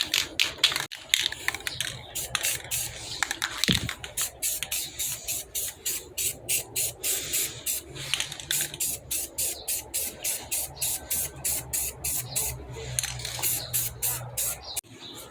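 A spray paint can lays a final medium-heavy coat on wheel rims, a long run of short, regular hissing bursts in a steady rhythm, close and fairly loud, with faint background hum.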